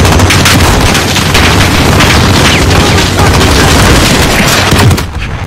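Call of Duty Modern Warfare combat roars loudly and continuously, dense gunfire and booming RPG blasts packed together for about five seconds before cutting off abruptly.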